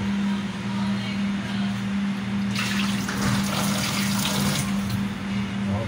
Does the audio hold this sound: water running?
yes